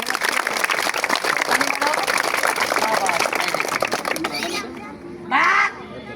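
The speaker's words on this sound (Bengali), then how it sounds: "সবাই মিলে একটা তালি মারো দেখি।" A group of children clap together amid excited chatter and shouts, a dense patter that fades out, followed by a brief shout.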